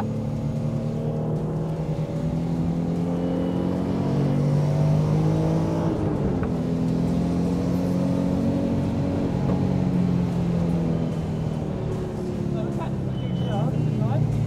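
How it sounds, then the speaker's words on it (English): Race car engine droning loudly inside the cabin on track at Donington, rising and falling in pitch as the driver blips the throttle through a heel-and-toe downshift, with people talking under the engine noise. "Nice little bit of heel and toe."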